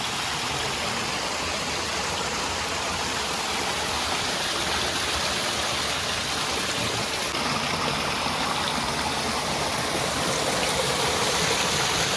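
Steady rushing water pours over rocks, a loud continuous broadband roar with no pauses, close by and constant throughout.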